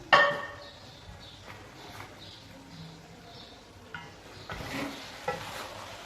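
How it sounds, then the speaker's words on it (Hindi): An onion, tomato and spice mixture for bhindi gosht being stirred in a pot, opening with a sharp clank of a utensil, then a quiet sizzle with scattered scraping strokes and a few louder stirs near the end. "इस सारे मिक्सचर को अच्छे से मिक्स कर लेंगे।"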